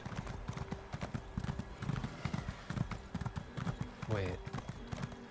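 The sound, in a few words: horse hooves galloping in video game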